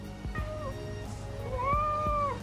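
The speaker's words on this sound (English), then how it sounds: "Oh no, this one was meowing." A house cat meows twice, close and clear, with drawn-out rising and falling cries over a steady low background hum and a few soft knocks.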